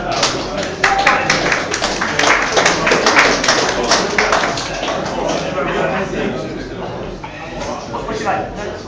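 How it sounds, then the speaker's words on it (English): A crowd at a snooker exhibition gives steady applause, dense clapping that holds for several seconds before slowly thinning, with some voices mixed in. "Big round of applause for Dean."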